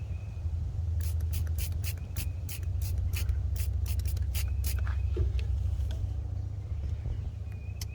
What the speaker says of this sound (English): take a spray bottle like this. It's got just water and dish detergent, and then I like to spray it